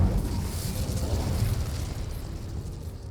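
An Incendio fire spell blasting in a cave in Hogwarts Legacy, heard as a loud, continuous roaring whoosh with a heavy low rumble that eases off slightly toward the end.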